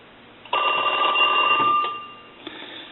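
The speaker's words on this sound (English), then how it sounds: "I'm going to go ahead and ring Mickey" A Mickey Mouse novelty telephone, under repair, rings loudly with a sustained bell for about a second and a half, then fades, followed by a brief softer ring-off clatter near the end.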